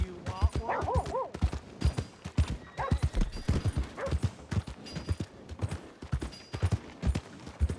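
Hooves clip-clop rhythmically as a horse gallops in Red Dead Redemption 2, steady close hoofbeats with a horse whinnying briefly near the start and mid-clip.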